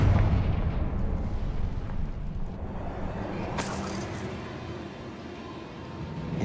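A Confringo fire spell bursts in Hogwarts Legacy, a loud, heavy blast that opens the clip and rolls into a sustained low rumble, with a sharp crackling flare about midway before the roar slowly settles.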